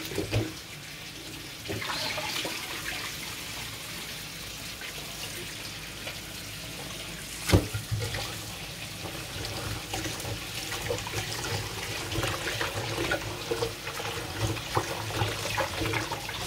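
Rice being washed under a running kitchen tap, a continuous soft stream of water splashing into a bowl or sink with a brief louder clatter midway, fairly quiet and without talk.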